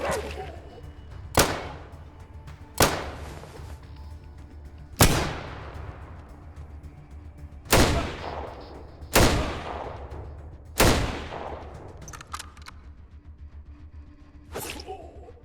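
Gunfire from the post-apocalyptic RPG ATOM RPG: seven loud, sharp single shots spaced one to two seconds apart, each with a long decaying echo, over a low steady background hum and no talking.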